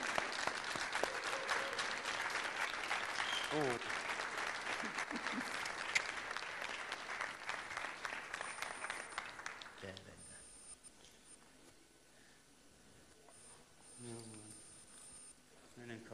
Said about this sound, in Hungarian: Most tapsoltak.